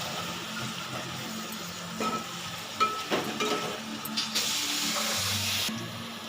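Water poured into a pan of sizzling egg curry, a steady frying hiss that swells into a brighter, louder rush of bubbling for about a second before settling back to a sizzle.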